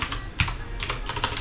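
Close, crisp typing on a computer keyboard while entering Lisp code, with irregular bursts of clicky keystrokes and short pauses between them, no voice.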